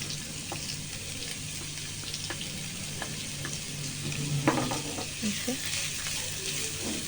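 Chopped onion and green chilli sizzle in hot oil in a pan, a steady close crackle with occasional stirring scrapes and clinks, heard alone.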